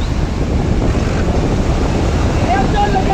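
Large open-sea waves surge during a bancarera boat race, a constant heavy wash of water and wind noise close to the microphone, with a voice faintly audible beneath it.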